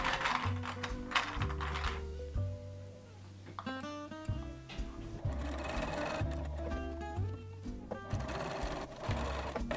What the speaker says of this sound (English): all that's left to do is to stitch across at 3/8 inch and repeat it for all four corners.